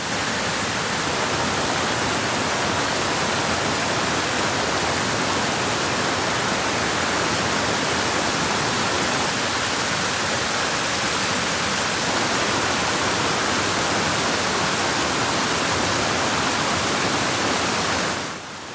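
Keld Falls pours in a constant, loud, broadband roar of rushing water, even and unbroken from start to finish.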